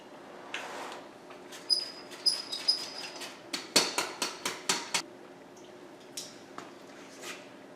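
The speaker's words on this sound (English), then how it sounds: "Stir it up." Sifted flour being stirred into a peanut butter, egg and sugar cookie mixture, a run of soft rhythmic thumps and scrapes of a spoon in the bowl, close and fairly quiet, with no talking.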